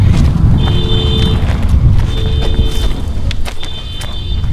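An alarm at an abandoned crematorium sounds in three repeated, steady electronic tone bursts over a constant rumble of wind and background noise.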